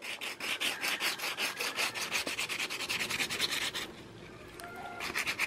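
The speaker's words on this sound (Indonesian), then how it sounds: "kali ini saya akan sedikit amplas lagi dan kita ulang lagi" Sandpaper rubs rhythmically over a polished coconut shell bonsai, a close scratchy back-and-forth stroke repeating about twice a second, pausing briefly before it resumes.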